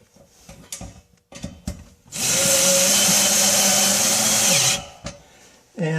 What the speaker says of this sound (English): and screw it into the drywall